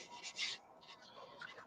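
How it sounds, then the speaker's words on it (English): Sandpaper rubbing against a wood-turned piece, soft close hissing strokes in a few uneven bursts, faint and brief. "Let's get to sanding."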